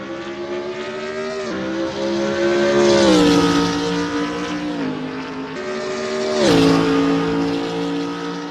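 A BMW Z4 GT3 race car screams around Spa in a racing video game, its engine note rising through the gears with sharp drops at each upshift, loud and close, with tire squeal and no voices.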